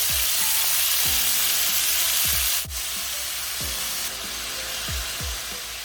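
Beef strips fry in a pan with a steady, loud sizzle, punctuated by a series of soft periodic knocks as the pieces are moved about.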